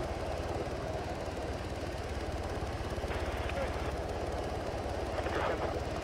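A helicopter in the video game Arma 3 hums with a steady rotor and engine drone throughout, low and continuous, with faint speech and small clicks layered on top.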